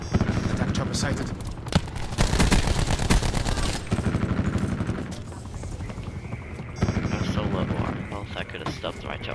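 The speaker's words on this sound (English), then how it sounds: "Attack chopper sighted." Attack helicopter rotor thrum and bursts of rapid gunfire in Call of Duty Black Ops 4 gameplay, loud and dense with repeated volleys over several seconds; a player talks over the action.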